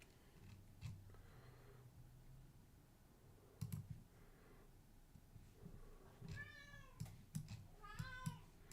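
A house cat gives two drawn-out meows near the end over steady computer keyboard typing and clicks. Both sounds are quiet and close, with clacks scattered throughout before the cries.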